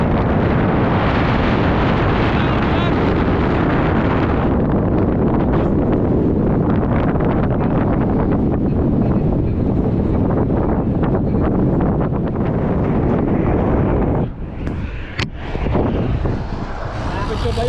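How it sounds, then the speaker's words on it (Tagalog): Strong headwind buffets the microphone of a cyclist riding a loop between Azizia and Khobar, a loud continuous roaring rumble across the whole stretch that eases briefly near the end with a few gusty bursts. "Ang lakas ng hangin"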